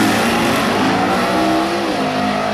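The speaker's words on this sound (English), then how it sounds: "Both cars ripping up to the top." Two big-block drag racing cars roar down the strip at full throttle, a loud sustained engine blare that holds and shifts pitch slightly as they pull away toward the end.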